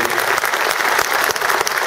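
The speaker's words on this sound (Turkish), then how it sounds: "Onun için şöyle güzel bir büyük bir alkış rica ediyorum." An audience claps in a dense, steady burst of applause at an AK Party political gathering in Denizli, loud and continuous with no voices standing out.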